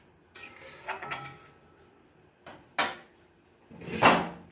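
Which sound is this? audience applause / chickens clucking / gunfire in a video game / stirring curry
stirring curry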